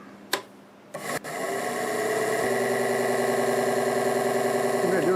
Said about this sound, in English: I'm going to finish the blending of this with the lathe running in reverse